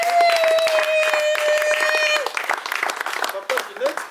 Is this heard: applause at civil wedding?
yes